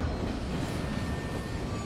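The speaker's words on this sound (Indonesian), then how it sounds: "Akemi harus naik kereta api ke sana." Steady rumble of a train running on rails, a continuous broadband roar with no separate clacks, loud and close throughout.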